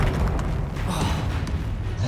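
Fire spell explosions in the Hogwarts Legacy video game, a dense run of low booms and thuds rolling one into the next at steady, fairly loud level with no voices.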